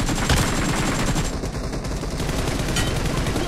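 Rapid gunfire from a shooter video game, including a SCAR rifle, rattles in dense continuous bursts under a noisy, compressed background, with no talk.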